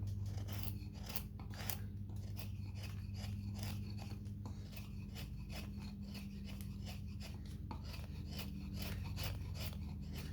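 Hand chisel scraping and rasping across a gnome sculpture in quick repeated strokes, close and steady with a low background hum throughout.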